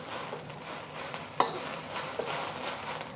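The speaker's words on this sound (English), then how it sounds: "I just want to stir fry this until the rice is kind of evenly brown" Ginger scallion egg fried rice is stir-fried in a hot pan, making a continuous sizzle and scraping stir strokes, with one sharp clack of a utensil against the pan partway through and no talking.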